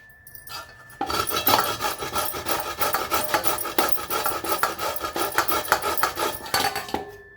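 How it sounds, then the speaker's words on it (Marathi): A halved bottle gourd is grated by hand in a home kitchen, giving a continuous close, loud rasping with quick rhythmic strokes after a faint start. "आता मी भोपळा खिसून घेते"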